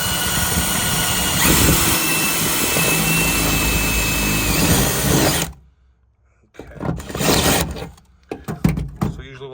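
A power drill bores a bolt hole through the cab floor of a 1988-99 Chevy or GMC truck, a loud steady whine lasting about five seconds, then stopping before a few short rough bursts and clunks.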